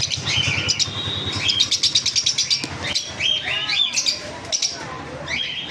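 Caged Lutino Fischer's lovebirds at a bird sale chirp loudly and continuously up close, with rapid repeated tweets and squawky calls overlapping, and a voice talks faintly underneath.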